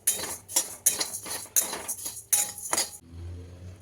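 Coriander seeds, ajwain and cumin dry-roasting for chakli flour, heard as about six sharp rhythmic scrapes and clinks of a spoon against a pan, close and fairly loud, followed by a low hum once the stirring stops.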